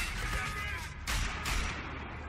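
A grenade goes off in Wolfenstein The Old Blood with a loud, rumbling blast. A second burst follows, set against a dense wash of game combat noise.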